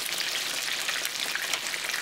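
Swai fish frying in a pan of hot oil, a loud, dense, continuous crackling sizzle heard up close with no other sounds.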